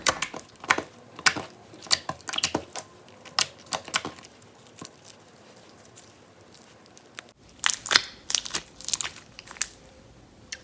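Glossy cherry-scented slime with gold glitter squished by hand, giving sharp clicky crackles and pops in quick irregular bursts, then a short quieter stretch before another flurry of close clicks.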